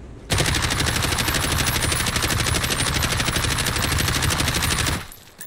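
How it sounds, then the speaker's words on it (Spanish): Rapid automatic gunfire from a console shooter weapon using a Strike Pack mod in burst mode, a dense, steady rattle of shots firing continuously and loudly for about five seconds before stopping abruptly. "Y voy a dejar que el arma dispare solita sin, sin bajar sticks."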